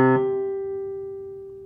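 A single plucked string harmonic sounding an octave and a fifth above the fundamental, a pure bell-like tone that rings out and slowly decays, heard alone in a quiet room.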